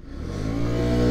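A motorcycle pulling away from a traffic light at full throttle, engine note climbing steadily and growing louder over about a second, heard close with no talk.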